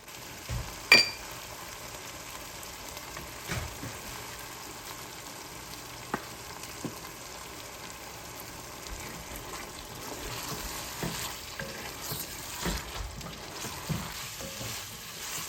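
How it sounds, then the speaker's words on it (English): Mutton and lentil mixture sautéing with ghee on a high flame for daal gosht, a low, steady sizzle with scattered stirring clinks and scrapes throughout, fairly quiet and without talk. "you need to continue to saute this on high flame for about 5 minutes or so"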